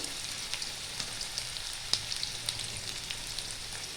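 Two medium potatoes frying in a pan with a little salt, a steady soft sizzle crackling throughout with small pops and one sharper spatter, no voices.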